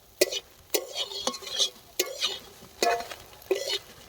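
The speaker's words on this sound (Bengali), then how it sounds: "বন্ধুরা, সয়াবিনগুলোকে হালকা লাল করে ভেজে নেব।" Soybean chunks fried in oil in a pan for a soybean and egg curry, stirred in about five distinct scraping, sizzling strokes with brief pauses between them, close and clear with no talk.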